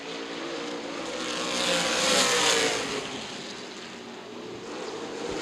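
Late model sportsman stock cars racing at Winchester Speedway: a broad, steady engine roar that swells to a peak midway and eases off again as the pack passes, heard from a distance with no voices.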